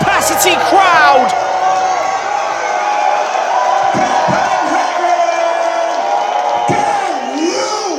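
A capacity wrestling crowd at a Nordic Elite Wrestling show in Amager Bio roars steadily throughout, with cheers, whoops and a few thuds and slams rising from the dense, loud, sustained crowd noise.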